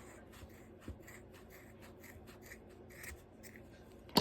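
Scissors snip through yarn while a crochet pompom is shaped, giving faint, repeated crisp cuts and soft rubbing at close range, with a sharper snip near the start and another toward the end.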